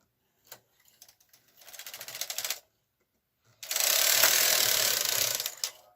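A KH 230 knitting machine carriage is pushed across a row, giving a short rattling, ratcheting run followed by a longer, louder mechanical clatter of needles, close by and without talk.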